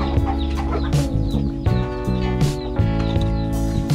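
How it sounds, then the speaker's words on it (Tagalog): A hen clucking loudly and close by, with repeated harmonic squawks and cackles in quick succession and scattered sharp rustles between them, with no talking. "patatahimikin muna natin itong ating manok dahil baka hindi tayo marinig"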